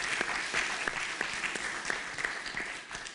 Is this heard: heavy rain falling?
no